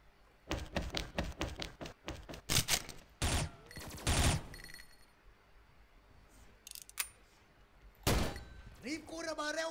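Bursts of gunfire in a Thai online shooter game, a rapid run of sharp shots followed by heavier blasts and a later burst, with some louder impacts and quieter gaps between.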